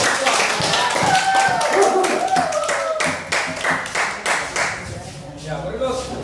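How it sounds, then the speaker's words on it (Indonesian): A classroom group claps for the second presenting team, steady close applause from several pairs of hands filling the room, with voices talking over it. "Aplaus dulu untuk kelompok 2"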